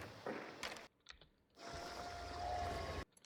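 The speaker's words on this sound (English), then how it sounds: "So we hear that shuffle right there." Footsteps shuffling in Hunt: Showdown, heard as bursts of soft scuffing and rustling broken by near-silent gaps, with a longer stretch of continuous shuffling noise in the middle and no voices.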